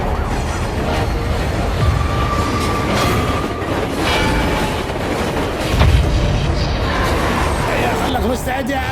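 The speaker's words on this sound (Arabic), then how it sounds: "القطار يتوجه إلى منحنى خطير، الرجاء أخذ الحيطة والحذر" Train rumbling and clattering along the rails as it heads into a sharp, dangerous curve, a loud continuous roar with booming thumps and brief squeals, with voices talking over it.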